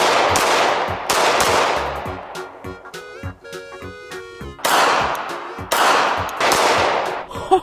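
A toy Glock pistol fires sound-effect bursts: loud, dense crackling volleys at the start and end, with a stretch of electronic beeping tones in the middle, alone without talk.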